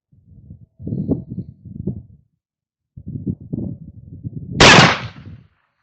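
Remington percussion revolver, .44 caliber, loaded with Swiss 3F black powder and a .454 round ball ignited by RWS 1075 caps, fires one sharp shot outdoors, following low rumbling handling noise.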